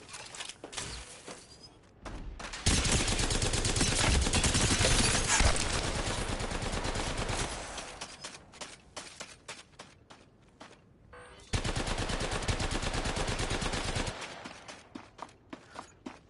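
Video game gunfire from weapon recoil testing: long sustained automatic bursts, loud and close, broken by short gaps and scattered single shots and footsteps.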